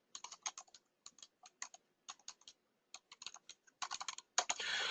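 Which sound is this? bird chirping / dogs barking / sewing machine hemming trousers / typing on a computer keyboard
typing on a computer keyboard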